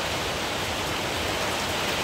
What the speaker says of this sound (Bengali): কি জোরে হাওয়া